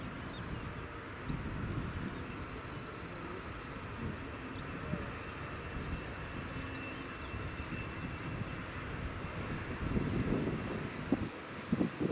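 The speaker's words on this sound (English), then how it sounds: "we've got the 787 on final approach here" A WestJet Boeing 787 Dreamliner on its inaugural flight from Calgary makes its final approach to Edinburgh Airport, a steady distant jet roar rumbling throughout with outdoor ambience.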